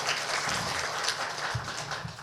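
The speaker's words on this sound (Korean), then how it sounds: "우리 큰 박수로" A church congregation at a Christmas service claps together in a dense, continuous patter that holds at an even level from start to finish, with no voices.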